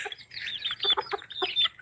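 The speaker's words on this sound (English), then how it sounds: "I got a rooster named Toby Keith" A rooster clucks close by in a few quick, choppy bursts with short gaps between them, fairly loud against a quiet background with no talking.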